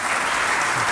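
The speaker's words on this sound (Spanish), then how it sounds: "Quiero que le den un fuerte aplauso a los tres." A seated audience at a panel event applauds, a steady dense wash of clapping throughout with no individual claps standing out and no talk.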